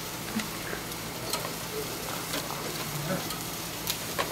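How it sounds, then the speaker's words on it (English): Chicken pieces sizzle steadily on a barbecue grill, a constant close crackle and hiss with small pops and light clicks throughout and no talk. "that's typically how I like to place the meat on the barbecue"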